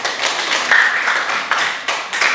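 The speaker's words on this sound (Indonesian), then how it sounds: "Ya, berikan aplaus buat kita kelas." A classroom of students claps together, a lively burst of applause that swells and fades in uneven waves for a couple of seconds, no talking over it.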